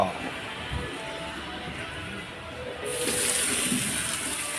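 Water runs steadily from a rear tap fed by a newly installed water pump and piping, a continuous close splashing rush that grows slightly brighter partway through.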